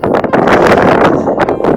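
Loud wind buffets the microphone in Berlin in rough, continuous gusts, a close, roaring rumble that fills the whole moment.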